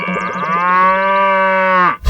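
A buffalo in an animated cartoon lets out one loud, close, sustained moo with a rich harmonic tone, lasting nearly two seconds before it cuts off.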